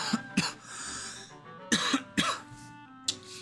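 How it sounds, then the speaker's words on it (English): Several sharp coughs and throat-clearing bursts from a nearby person at a gaming setup, arriving in irregular clusters with quiet gaps between them, with no speech. "I don't know why I'm coughing."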